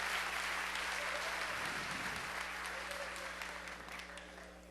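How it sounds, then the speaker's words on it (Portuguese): A church congregation claps for the actors after a Sunday evening service skit, a broad sustained patter of many hands that stays full and even before easing slightly toward the end. "Vamos aplaudir os nossos atores aqui."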